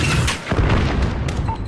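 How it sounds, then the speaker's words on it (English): Missile impact explosion in Call of Duty: Modern Warfare on the Embassy mission, a loud dense boom with crackling gunfire and battle noise throughout, several heavy thumps packed into under two seconds. "Copy, missile inbound. Impact."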